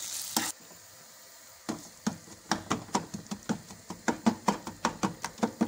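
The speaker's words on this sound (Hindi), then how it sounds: "शामी को हम अच्छे से मिक्स कर लेंगे।" Egg and shami kebab mixture being worked together in a bowl for Lahori anda tikki, giving a run of regular, close, wet slapping and stirring strokes after a brief opening clatter and pause.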